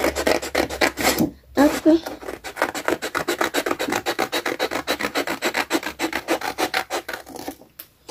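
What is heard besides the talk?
cutting paper card with scissors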